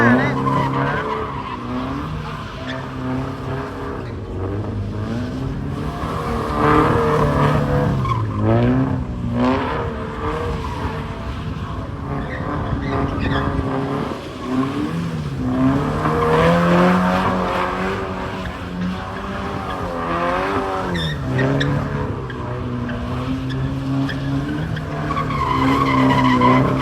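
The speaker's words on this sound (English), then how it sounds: "Man, he's sliding that thing, man." A car sliding at a car meet, with long wavering tire squeals and a revving engine, loud and sustained, rising and falling as it drifts, while people talk nearby.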